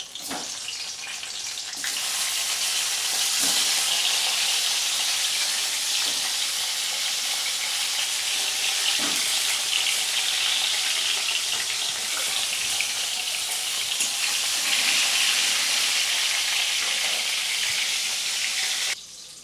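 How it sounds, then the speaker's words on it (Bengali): Pointed gourd (potol) pieces frying in hot oil in a kadai, a loud steady sizzle that runs unbroken for nearly the whole stretch, with occasional soft clinks of stirring and no voices. "তেল গরম হয়ে গিয়েছে, এবার পটলগুলো আমি ভেজে নিচ্ছি"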